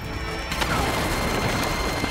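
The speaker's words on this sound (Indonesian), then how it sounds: "sebuah bom ranjau langsung meledak" Landmine blast in an action film raid on a hideout, heard as a dense, sustained crashing roar with rumbling low end that swells just after the start and stays loud throughout the short burst.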